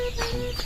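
Native farm chickens cluck in a brief, close burst with a little background noise of the yard.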